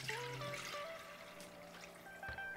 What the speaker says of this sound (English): So I'm going to pour it through here.